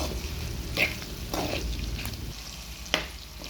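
Bitter gourd pieces fry in a pan with a continuous soft sizzle and crackle, punctuated by a few sharper pops and stirring scrapes, close and unbroken.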